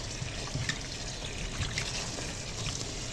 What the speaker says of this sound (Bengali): সবগুলো ধুয়ে পরিষ্কার করে একটা ঝাঁঝরিতে নিলাম